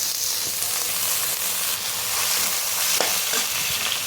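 Chopped potatoes fry in oil with onions, giving a loud, dense, constant sizzle up close, with occasional scrapes of stirring.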